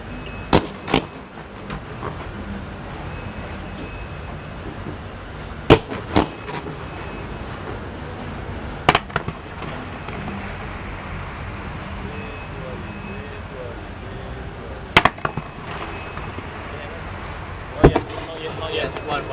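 Fireworks bursting outdoors at a night celebration, with sharp bangs scattered irregularly over a steady crowd-and-crackle background, a few loud reports standing out among fainter pops.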